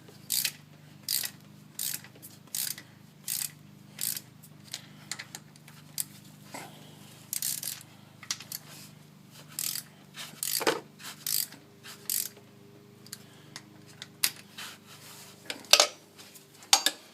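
Hand ratchet tightening bolts on a 2006 Ford Crown Victoria Police Interceptor, a steady series of short clicking bursts repeating about every second, fairly close, with a faint low hum beneath and no talking.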